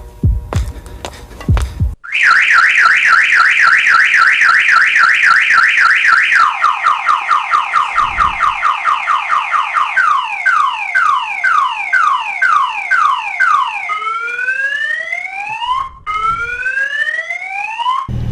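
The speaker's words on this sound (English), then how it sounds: "Warning, warning, Viper alarm, Viper alarm. Remember the Viper alarms?" A Viper car alarm cycles loudly through several siren patterns: warbling tones, rapid chirps, then rising whoops, continuous and close with no talking.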